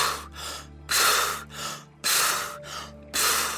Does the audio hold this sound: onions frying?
no